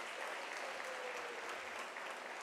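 A university graduation ceremony audience applauds, a dense steady wash of clapping from a large crowd throughout, moderately distant, with no speech.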